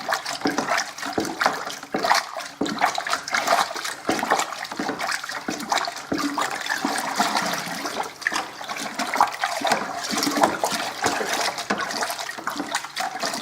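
Sauvignon Blanc homebrew wine being mixed splashes and sloshes steadily for several seconds, close up and fairly loud, with irregular bursts of splatter.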